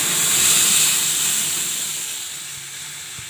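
Mung dal tipped into hot tempering in a pan lets out a loud, steady sizzling hiss close by, gradually easing off over a few seconds.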